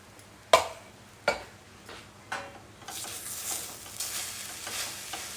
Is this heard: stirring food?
yes